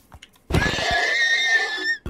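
Horse whinnying in Minecraft survival, a single drawn-out neigh about one and a half seconds long, loud and close, with a wavering tone that falls away at the end.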